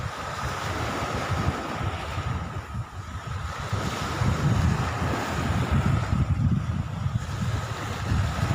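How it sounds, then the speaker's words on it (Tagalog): Big sea waves roll and wash near a fishing boat out at sea, a continuous loud surf rush mixed with gusting wind noise on the microphone. "malalaki na ang alon"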